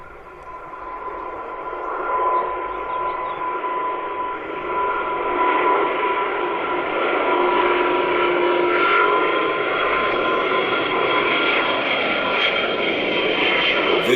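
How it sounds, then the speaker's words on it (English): An Airbus A350 strains through a takeoff run on one working engine at half power, a steady loud jet roar and whine that builds gradually and holds at close range with no talk. "This Airbus A350 struggling to take off as it only has one functioning engine and half its usual power."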